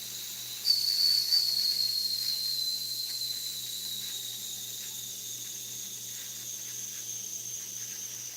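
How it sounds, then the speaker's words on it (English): Steam hisses steadily out of an old children's toy, with a thin high whistle-like tone over a faint background hum. It starts a little louder, then settles into a constant, fairly quiet hiss. "I'm letting all the steam off of this thing."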